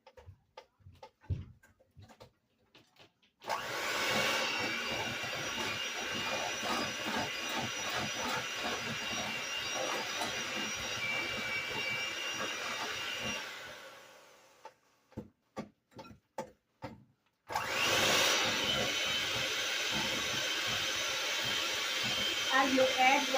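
Electric hand mixer beating unsalted sweet cream butter for a banana loaf, a steady close whirring with rattling clicks that runs about ten seconds, stops, then starts again, with brief clatter in the pauses.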